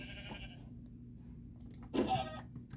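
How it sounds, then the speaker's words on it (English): Sheep bleating in Minecraft Java Edition survival: one short bleat near the end, moderately loud over a faint steady game background, following an earlier brief tone. "Here's another sheep."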